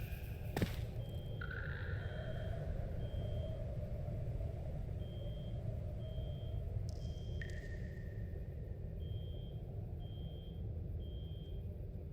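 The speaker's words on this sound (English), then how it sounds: "You can hear each time the HBHF sensor is triggered." An HBHF sensor in the Rust video game triggers a base alarm, a faint, evenly spaced electronic beeping that repeats over a steady low rumble, with a few sharp tonal chirps near the start and the middle.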